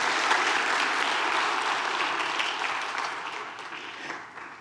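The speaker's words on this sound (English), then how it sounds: "You can clap for that." A congregation claps during a Sunday morning sermon, a full burst of crowd applause that starts strong and gradually tapers over a few seconds.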